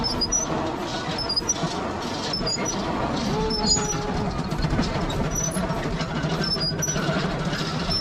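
Steady rumbling and rattling of a moving train, a continuous mechanical clatter with faint squeals, heard from inside over several seconds near Jatiluhur Reservoir, Purwakarta.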